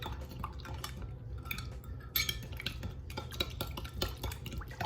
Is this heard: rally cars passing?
no